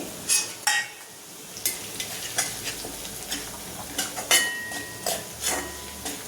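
Onion fries in a pan with turmeric, salt, black masala and red chili while a spatula stirs and scrapes, sharp repeated metallic clinks over a steady close sizzle, no talk.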